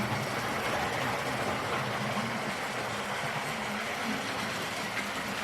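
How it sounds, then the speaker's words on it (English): A Hornby model LMS Black 5 steam locomotive runs along model railway track with a steady, even rolling rumble and whir, moderately quiet and unbroken. "Very lovely, attractive locomotive, this."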